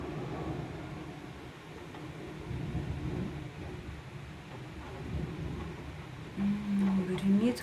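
Low rolling thunder rumbles on and off through a night thunderstorm, dull and distant under steady background noise, swelling louder near the end.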